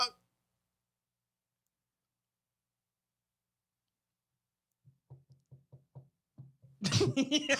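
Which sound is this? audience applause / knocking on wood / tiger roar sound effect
knocking on wood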